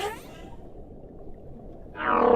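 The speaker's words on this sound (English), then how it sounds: "The male humpback may sing for hours or even days." A male humpback whale sings underwater, faint, drawn-out calls set against a wash of ocean noise, with a brighter, louder passage near the end.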